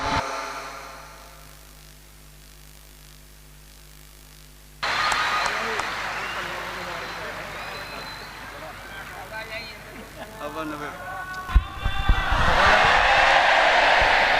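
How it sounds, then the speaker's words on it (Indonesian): Audience applause at a university sholawat gathering swells after a closing greeting, a broad wash of clapping that grows louder and denser toward the end, with a voice speaking over it. "Tepuk tangan sekali lagi buat beliau, Kiai Haji Anwar Zahid"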